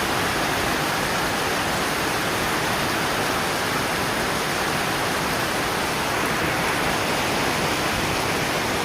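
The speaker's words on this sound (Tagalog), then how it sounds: "Yun, lakas ng ulan." A typhoon's downpour in Pangasinan keeps up an unbroken, full hiss of heavy rain close by, loud and uniform from start to finish, with nobody speaking.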